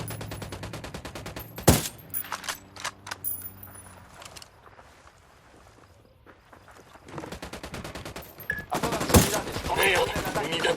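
Gunfire from an attack on a soldier patrol in Ghost Recon Wildlands, with sharp shots and bursts scattered across the clip, a quieter lull in the middle and voices talking between them.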